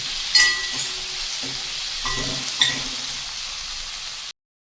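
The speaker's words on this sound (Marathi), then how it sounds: "हे दोन्ही टोमॅटो ह्याच्यात घालून घ्यायचे आणि ते सुद्धा अगदी मऊ होईपर्यंत परतायचे आपल्याला." Chopped tomatoes sizzle and are stirred in a pan for Punjabi vadi bhaji, a moderate frying hiss broken by a few sharp scraping clinks of the spoon before cutting off abruptly.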